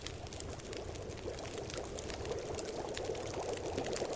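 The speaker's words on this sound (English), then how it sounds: "As much as I like tea, you can probably hear me drinking it now." Tea being drunk in The Long Dark makes a faint, continuous liquid pouring and gurgling sound, steady and close, with no talk.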